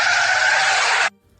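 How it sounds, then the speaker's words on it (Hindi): A car braking hard on a highway, its tires letting out one loud, sustained high screech that lasts about a second and cuts off abruptly, leaving a low idling hum. "अबे गाड़ी क्यों रोकी? इतनी तेज ब्रेक्स लगाता है क्या कोई?"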